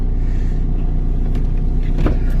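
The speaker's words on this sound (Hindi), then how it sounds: "गाड़ी चालू है" A parked car idles with its engine running at night outdoors, a steady low rumble close by and unbroken, with a faint brief swell near the end.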